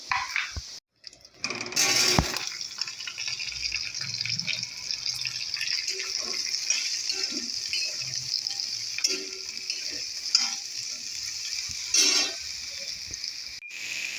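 Potato, eggplant, onion, ginger and garlic fry in a pan, giving a steady close sizzle with scraping stir sounds throughout and a brief gap near the start.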